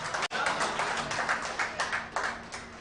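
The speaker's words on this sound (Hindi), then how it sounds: "थोड़ी बहुत तालियां बजाकर आप भी मेरा स्वागत कर दीजिए" An audience at a kavi sammelan poetry recital claps steadily, a dense wash of hand claps with small surges, close and fairly loud with no talking over it.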